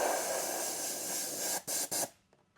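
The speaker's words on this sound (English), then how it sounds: "I'm being careful not to spray completely over the magenta with the yellow" Yellow spray paint hisses steadily from an aerosol can onto a Tekno RC ET48 car body, a long continuous burst followed by two short puffs, close and loud, with no talking.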